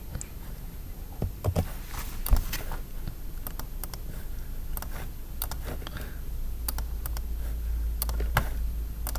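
Typing on a computer keyboard while entering text into a spreadsheet: irregular bursts of close, crisp key clicks over a low steady hum.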